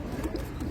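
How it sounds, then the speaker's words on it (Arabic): Ornamental pigeons at a pigeon loft give soft, low cooing calls, two or three brief throaty coos heard close by in quick succession. "ده حمام زينه"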